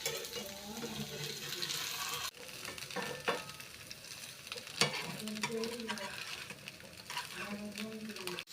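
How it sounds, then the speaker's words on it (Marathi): Rava-coated chicken sizzles steadily in a frying pan, with occasional scrapes and knocks as pieces are turned, and a voice talking over the crackle throughout. "आता सध्या आम्ही त्या परतून घेऊया"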